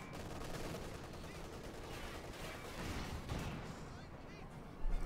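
Tank gunfire in a Company of Heroes 2 match between a Panzer and T-34-85s: a faint, dense wash of battle noise with cannon and machine-gun fire, rising toward the end.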